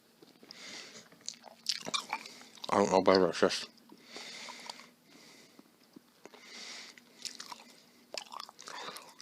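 Close, wet chewing and crunching of tough rib tips with a bone in them, in irregular bites and one loud burst, with someone talking in between.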